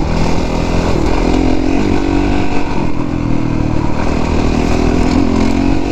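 A 450 dirt bike rides along a mountain trail, its engine droning loud and close without a break, with steady revving and rattly clatter and no talking.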